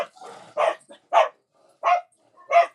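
Several dogs barking in short separate bursts, four or five sharp barks spaced about half a second apart, fairly close and loud, with no talk over them, in a home during a storm.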